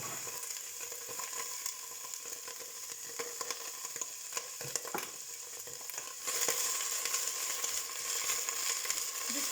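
Kale being stirred in a hot pan with salt while it fries, giving a steady close sizzle broken by scraping and stirring strokes that grow louder partway through.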